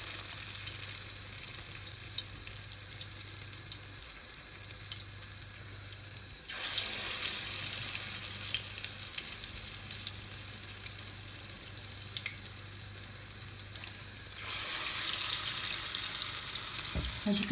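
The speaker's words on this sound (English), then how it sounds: "Now we're going to fry it." Courgette balls (kolokythokeftedes) frying in oil, giving a steady broadband hiss that swells louder at two points as more pieces go in, with a low hum running beneath and no voices.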